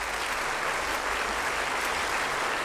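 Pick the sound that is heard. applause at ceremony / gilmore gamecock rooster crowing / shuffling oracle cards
applause at ceremony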